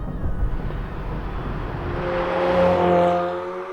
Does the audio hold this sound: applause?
no